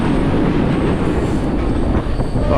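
Rear coaches of a passenger train on the Visakhapatnam–Araku line rumble along close and loud, a constant dense roar of wheels on rails without pause.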